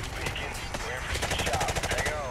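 Rapid automatic gunfire in Call of Duty: Modern Warfare Remastered rattles in quick regular bursts, loud and close, with a player's voice shouting over part of it.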